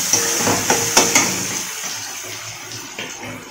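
Tomatoes tipped into a pan of softening, sizzling onions for a chicken curry: a steady crackling hiss with a few soft plops and clatters near the start, gradually settling into a quieter sizzle.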